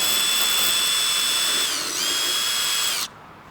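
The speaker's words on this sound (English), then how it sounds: "we're just gonna drill into where the holes are already cut out on the cardboard that we did earlier" A power drill bores holes for a spoiler on a 2015-or-later Ford Mustang, a loud, high steady whine that dips briefly in pitch under load, recovers, then stops abruptly near the end.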